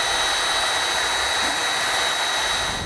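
A power drill bores a stepped hole through metal while air helper springs are being mounted on a vehicle, giving a continuous loud high whine with no pauses and no talk.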